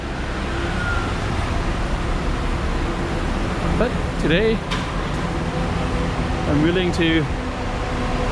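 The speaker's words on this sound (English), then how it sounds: "this usually I avoid this main street because it's pretty loud with all the traffic" Steady roar of heavy traffic along a busy main street in Macau, a broad continuous wash of engines and tyres, with a voice briefly speaking over it.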